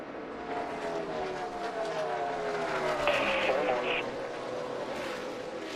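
NASCAR stock cars racing past at the 2017 O'Reilly Auto Parts 500, engines roaring and sweeping by at close range as the pitch shifts, with a commentator talking over them.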